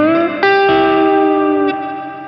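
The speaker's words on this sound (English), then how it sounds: "I have a Levitation by Earthquaker Devices reverb" A Tagima Jet Blues Cosmos electric guitar played through an Earthquaker Devices Levitation reverb pedal, with a few struck chords that ring and sustain into a loud, lush, spooky reverb wash, heard alone.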